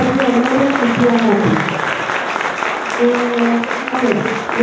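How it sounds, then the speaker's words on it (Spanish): Loud audience applause at a school graduation ceremony continues throughout, with voices and a few cheers audible over the clapping. "Fuerte el aplauso"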